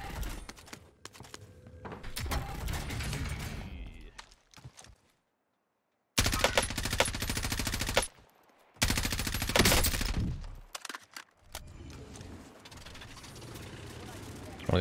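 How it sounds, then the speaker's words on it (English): Automatic M4A1 rifle fire in Warzone, loud bursts of rapid shots split by short silent gaps, with game sounds and a voice talking between the volleys. "What gun am I using right now? The M4A1."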